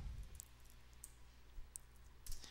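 Mouse double-click on a report in Visual Studio 2010: a few faint, sharp clicks spaced across a quiet room with a low steady hum beneath.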